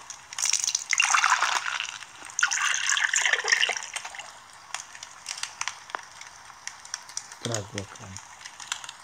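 Water in the survival video game Day R Survival, a soft trickling, gushing burst in two short stretches early on, followed by quieter clicks and taps with someone talking faintly.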